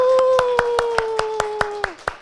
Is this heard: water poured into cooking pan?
no